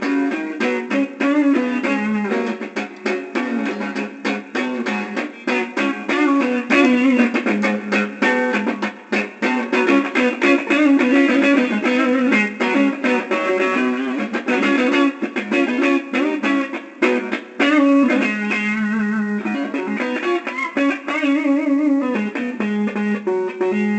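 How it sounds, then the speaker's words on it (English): Slick Guitars SL57 electric guitar played through its neck pickup with a distorted amp tone, a sustained stretch of chords and lead lines that stays loud and continuous throughout. "We're going to start out in the neck position because it's fun."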